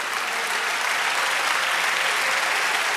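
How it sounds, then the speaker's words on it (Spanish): A church congregation at a Saturday jubilee service in Poughkeepsie, NY applauds steadily, a dense, even wash of clapping that holds at full strength for the whole stretch with no voices over it. "Dale un aplauso al Señor."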